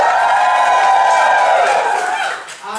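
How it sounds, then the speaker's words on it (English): A stand-up comedy audience in Lancaster cheers loudly, a dense roar of voices that fades toward the end. "Can I get a cheer from everyone from Lancaster tonight?"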